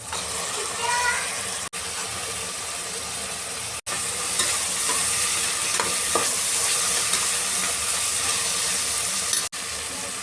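Tomatoes fry in a pan with garlic and ginger paste for rava vangi bath, giving a bright, hissing sizzle that holds steady, with a few faint scrapes of stirring and brief drops in sound.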